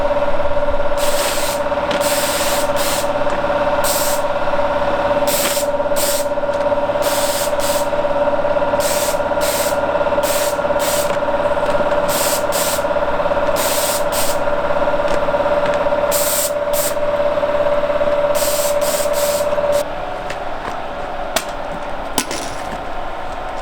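Spray primer is applied to a camper trailer in a string of short hissing bursts with uneven gaps, close and steady, over a constant background hum that drops away near the end.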